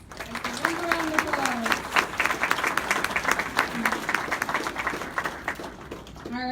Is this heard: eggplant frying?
no